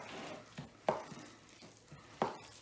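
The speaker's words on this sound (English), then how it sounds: "Just get right in there with your hands and mix it all up." Hands squishing and mixing a meatball mixture for Russian meatballs, soft wet squelches and a couple of sharper slaps, quiet and close with pauses between movements.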